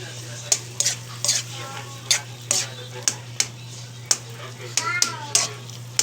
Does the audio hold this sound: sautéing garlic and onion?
yes